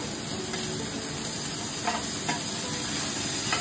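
Tomatoes hit hot oil in a pan while a Bengali fish curry of lotia fish is cooked, giving a steady, soft frying hiss with a few faint spits and pops.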